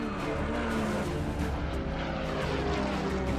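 A propeller airplane flies low during a race against a car, its engine droning loud and steady at close range throughout, with a car's engine mixed underneath.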